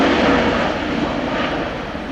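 An Airbus A400M Atlas military transport flies a display at RIAT, giving off a loud, steady broadband turboprop roar that fades slightly over a couple of seconds.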